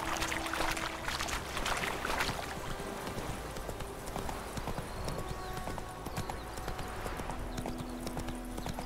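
Hooves of Roach, Geralt's horse in The Witcher 3: Wild Hunt, clip-clop steadily and close in a continuous trotting rhythm, with faint background ambience and occasional tonal game sounds.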